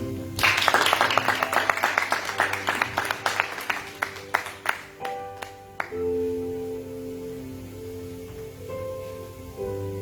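A church congregation bursts into dense clapping that thins into scattered claps and stops after about six seconds, followed by sustained organ or keyboard tones.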